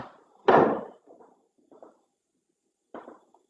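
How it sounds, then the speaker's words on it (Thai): A door thumps shut loudly once, followed by a few softer knocks and creaks spaced out in an otherwise quiet room, heard close and without speech. "เสียงเหมือนประตู"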